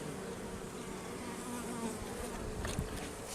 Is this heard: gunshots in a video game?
no